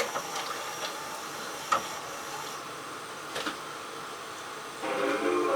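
An LG RC689D VHS/DVD combo VCR whirs and hums steadily with occasional mechanical clunks and clicks as it loads a tape, ending in a louder motor whir.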